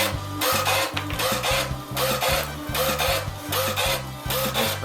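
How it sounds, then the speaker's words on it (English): A Cab label printer prints and fully cuts 25 sleeves with a permanent durable legend, dropping them into a catch tray: loud, close, rhythmic mechanical whirring and rasping in repeated bursts with brief pauses between cycles, no voices. "I'm going to print out 25 sleeves and hit print"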